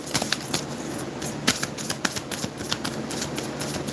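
A deck of cards being shuffled for a reading, a dense run of crisp riffling flutters and soft slaps close by, steady for several seconds with no talk over it.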